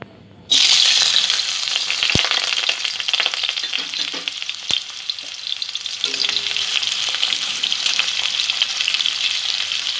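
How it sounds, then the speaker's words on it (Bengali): Sliced onion frying in a little white oil in a wok, a loud dense sizzle that bursts in after a short quiet start and stays steady throughout, with a couple of sharp clicks and light stirring, close up and alone. "কড়াতে অল্প সাদা তেল দিয়ে দিয়েছি। পেঁয়াজটা আমি নরম করে ভেজে নেব।"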